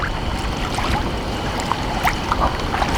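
Deep Trekker DTG2 ROV thrusters at full throttle during an ocean dive, heard underwater as a dense, steady rushing churn with occasional faint clicks and bubbles, with no voices.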